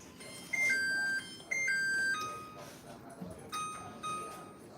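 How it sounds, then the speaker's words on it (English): A kitchen timer sounds during brunch cooking, giving repeated electronic beeps in short bursts at changing pitches, fairly loud and near, with people talking faintly in the background. "Okay, timer off."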